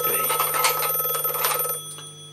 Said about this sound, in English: Oh, it's the phone. Oh, it's ringing.